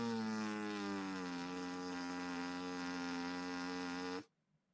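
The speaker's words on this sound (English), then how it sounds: "But for now, you can just buzz on your mouthpiece." A trombone mouthpiece is buzzed alone in a steady, close, loud tone whose pitch bends slowly downward before cutting off abruptly near the end.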